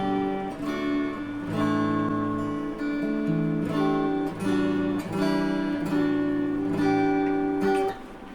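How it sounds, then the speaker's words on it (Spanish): Clean electric guitar played straight into an amplifier with no tremolo or distortion, a sequence of ringing chords and notes with sustained harmonics, close and fairly quiet, stopping just before the end with no voice over it. "mi guitarra suena así. Estoy conectado directo al amplificador,"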